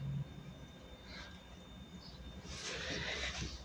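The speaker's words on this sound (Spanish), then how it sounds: "Spirit, el corcel indomable. Es este caballo" A horse whinnies in an animated film, with a high neighing call around the middle and a louder, longer whinny near the end over a steady background.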